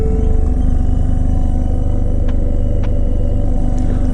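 Car audio from an aftermarket amplifier in a 2017 Lincoln MKZ plays loud and steady inside the car, a heavy, constant low-end rumble throughout with a few faint clicks and no talking.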